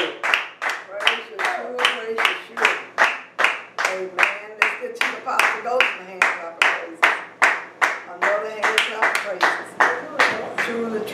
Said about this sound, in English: Let's give the children a hand clap of praise.